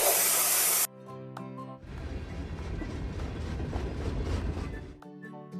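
A loud burst of hissing from a spray gun in a children's video game is followed by a few electronic tones, then a steady spraying hiss runs for several seconds before stopping.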